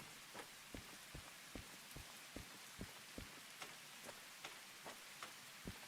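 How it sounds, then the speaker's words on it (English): Rain in the Derail Valley train simulator game, a faint, steady hiss of rainfall with evenly spaced, distinct drop-like taps recurring about every half second, heard alone without speech. "I'm running in the rain."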